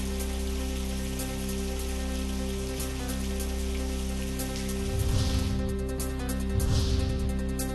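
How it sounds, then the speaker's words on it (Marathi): Heavy monsoon rain in Shahapur, Thane district, a steady dense hiss of downpour on surfaces that swells briefly louder twice near the end, with no voices. "ठाणे जिल्ह्यातील शहापूर तालुक्यामध्ये सकाळपासून मुसळधार पाऊस सुरू"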